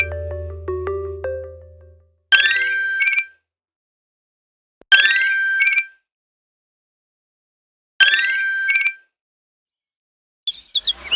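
A phone rings in short electronic bursts, three identical warbling chirpy rings evenly spaced a few seconds apart, loud and clear in a quiet room after a brief tonal jingle.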